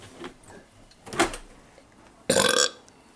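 A man lets out two burps close to the microphone in a quiet room, a short rough one followed by a louder, longer belch.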